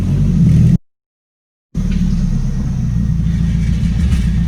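A car riding on newly fitted MaxPeedingRods lowered suspension, driven with the hood off, gives a steady low engine rumble and road noise close by, broken by a brief gap of silence before the drone resumes.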